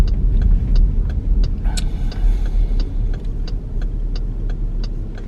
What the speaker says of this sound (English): That turn signal sounds kind of funny